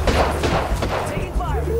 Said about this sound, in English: Taking fire! The enemies are shooting at me.